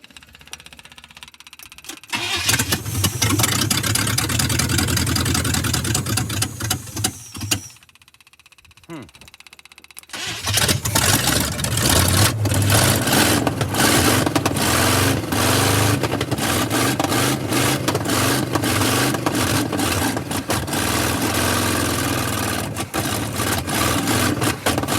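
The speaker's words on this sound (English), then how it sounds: "Why aren't you running on all 8, little truck?" A 1985 Chevy truck's V8, not firing on all eight cylinders, runs loud and close with a rough, uneven idle and revs. It cuts out briefly partway through, then restarts and keeps running hard.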